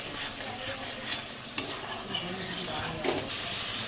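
A spice masala fries in oil for a doi potol dish, a steady sizzle close by with intermittent spatula scrapes and light clinks against the pan, moderately loud and without talking.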